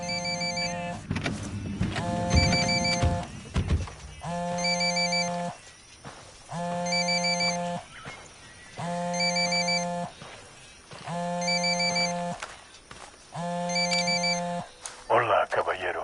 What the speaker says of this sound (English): It's ringing too much. Find it. There's the phone.